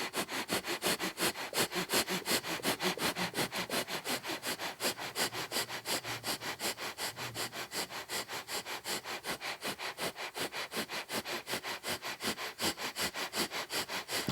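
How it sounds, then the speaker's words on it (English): Rapid, rhythmic nasal breath-of-fire breathing during a core yoga kriya, with sharp sniff-like exhalations repeating at a steady fast pace for the whole stretch, close and fairly loud, with no talking. "And breath of fire."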